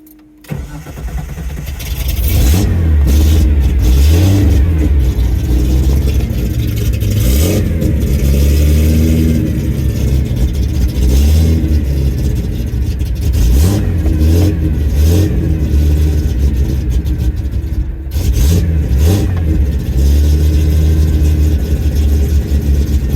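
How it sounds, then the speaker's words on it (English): Close and loud, a carbureted Z car engine cranks briefly, fires up, then settles into a rough idle punctuated by repeated revs across the whole stretch. "So let's go ahead and start the car up."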